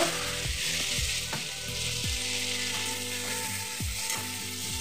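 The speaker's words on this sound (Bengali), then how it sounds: "এখন পেস্ট করা মশলাটা দিয়ে দিলাম। একটু নেড়ে চেড়ে নেব।" Spice paste sizzles steadily in a hot pan for Bengali steamed boal fish, with repeated scraping strokes of a spoon through the paste standing out above the constant frying hiss; no talking.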